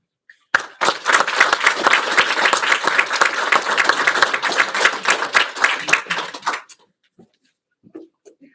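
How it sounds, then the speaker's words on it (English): Graduates clap for the supporters seated behind them at an adult education graduation for medical assisting, construction and HVAC programs. Crisp, close clapping from a sizeable group bursts in, holds strong for about six seconds, then quickly dies to silence. "I would like to take a minute to have the graduates applaud the people behind you for all their support"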